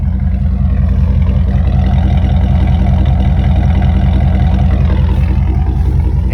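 A Dodge Durango's 5.2 Magnum V8, fitted with new headers, idles loudly and up close with a steady, deep, lumpy rumble that continues unbroken throughout.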